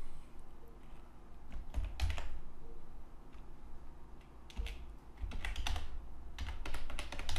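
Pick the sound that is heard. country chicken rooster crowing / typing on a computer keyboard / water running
typing on a computer keyboard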